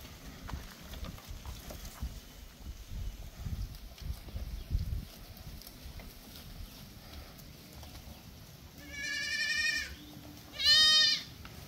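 Two goat bleats ring out near the end, the second louder, over a quiet outdoor background with faint rustling.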